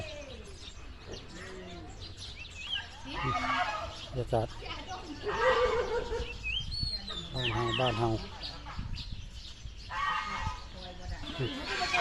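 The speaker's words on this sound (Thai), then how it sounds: "ไก่ใหญ่หลายคักทั้งไก่ทั้งเป็ดทั้งหาน" Chickens, ducks and geese call repeatedly around a farmyard in Sisaket Province, Thailand, with gobbling and clucking bursts while someone talks over them.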